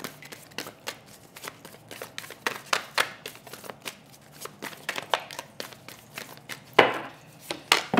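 An oracle card deck is shuffled by hand at close range, making a run of crisp, irregular riffling and slapping bursts with one louder flurry near the end and no talking.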